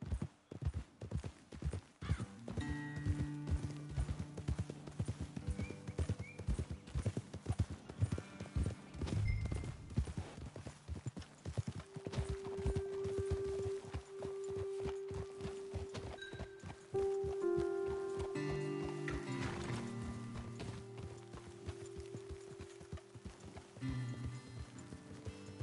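Horse hooves clip-clopping in Red Dead Redemption 2, a steady rhythmic trot of crisp hoofbeats on hard ground that continues throughout, with soft tonal game music and ambient sounds underneath.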